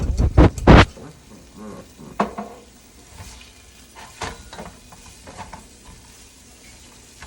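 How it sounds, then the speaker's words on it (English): Greens and cabbage being stirred in a pot as they brown with crushed red pepper, a few loud scraping clatters at the start, then a soft sizzle with occasional stirring knocks. "we're going to mix that up nicely until it gets brown"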